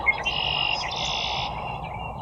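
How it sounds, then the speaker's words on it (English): A red-winged blackbird calls nearby at a wetland, one clear, buzzy trilling song lasting about a second and a half, loud and alone over a faint outdoor hush. "a red-winged blackbird who really doesn't like the heron around"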